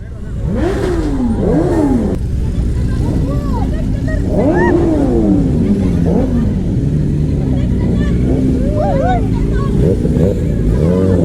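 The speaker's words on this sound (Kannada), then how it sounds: "ಓ ಸೂಪರ್ ಬೈಕ್ಸ್ ಎಲ್ಲ ಎಂಟ್ರಿ ಕೊಡ್ತಾ ಇದೆ" Superbikes arriving at the Yuva Dasara festival in Madikeri, their engines droning and revving loudly amid a dense outdoor crowd with people shouting and talking over the noise.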